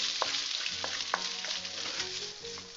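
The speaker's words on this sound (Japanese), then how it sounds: "油で焦がします。" Chopped scallions sizzle steadily in oil in a wok for fried rice, a dense continuous crackle with scattered sharper pops and stirring clinks close up.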